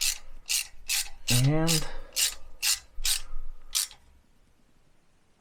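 A hand ratchet tightens a bolt on a stake down kit fitted to a Jaguar XK engine, giving about ten crisp clicking bursts in a steady rhythm, close and fairly quiet, with a brief word spoken midway.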